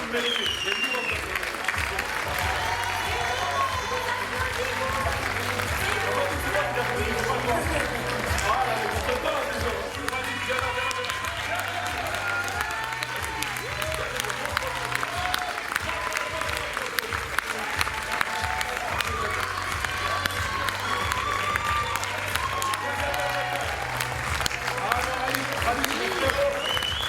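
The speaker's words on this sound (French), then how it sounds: "Et nous, on va vous applaudir maintenant parce que vraiment vous le méritez." Audience applause after a stage play performance, a dense continuous clapping that stays steady for the whole stretch, with voices and some music underneath.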